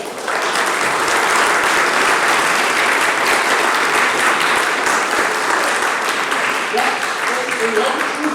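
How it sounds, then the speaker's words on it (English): A large audience applauds steadily and loudly for several seconds, dense continuous clapping that thins slightly toward the end. "Let's give him a round of applause."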